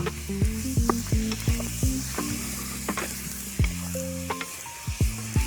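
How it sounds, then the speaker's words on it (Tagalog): Ginisa sauté mix sizzles in a pan as water is added, a close, steady frying hiss broken by repeated wet squishing stir strokes in an uneven rhythm, with no voices. "Pero, dahil naglagay nga tayo ng ng ginisa mix, lagyan natin ng konting tubig."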